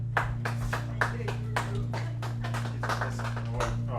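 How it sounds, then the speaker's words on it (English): A small group claps for the winner of a pigeon race, with sparse, uneven claps over a steady electrical hum and faint voices. "Huge applause"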